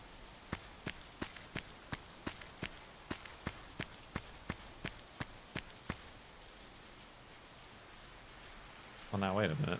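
Rain in the Hourglass puzzle game, heard as a steady wash of noise broken by a regular series of sharp ticks, like footsteps or drops, fading after about six seconds before a brief louder burst at the end.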